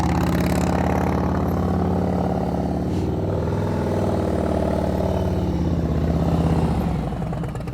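A motorcycle engine runs steadily at low speed during slow-speed riding practice, a continuous mid-pitched drone that holds close and loud, with engine revs rising and settling throughout.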